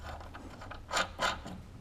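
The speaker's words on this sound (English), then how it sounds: "I don't know if I'm gonna be able to get a wrench in there to tighten that" A wrench works on the rear sway bar of a Porsche 944 with an LS swap, giving a few close metallic ratchet clicks, two louder than the rest, in a short burst with no talk.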